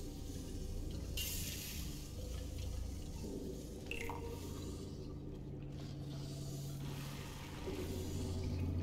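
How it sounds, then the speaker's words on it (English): Water flows steadily in Portal 2, a faint continuous trickling and dripping wash that runs the whole time with small splashy bursts, no talking over it. "Okay, so there's... water."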